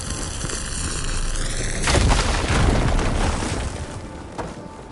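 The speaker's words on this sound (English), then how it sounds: "Should be able to blow up that fire gleam" In the video game Horizon, a fire gleam is blown up: a rising electronic tone breaks into a loud, close blast, then a rumbling, crackling roar that slowly fades.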